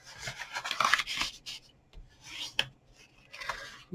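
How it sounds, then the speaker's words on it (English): Soft rubbing and scraping strokes as folds in cardstock are burnished, close and fairly faint, in irregular passes with no talking. "So we can do our folds now, give them a wee burnish"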